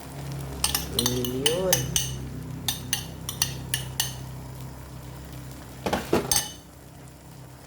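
Egg added to ginisang corned beef in a pan, with utensils clinking against cookware in sharp bursts over a steady low frying sizzle, a person briefly talking midway.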